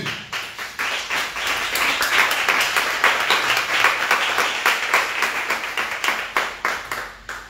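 A church congregation at a sermon on the resurrection applauds: dense, steady clapping from many hands fills the room for several seconds, fairly close and loud, with no talking over it.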